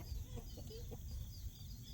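Soft, low clucking from chickens repeats through a steady, noisy background hum, with a few faint higher chirps scattered across the clip.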